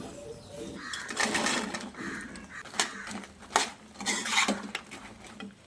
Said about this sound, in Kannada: ಈಗ ಸೋಯಾವನ್ನು ಹಾಕಿ ಮಿಕ್ಸ್ ಮಾಡುವ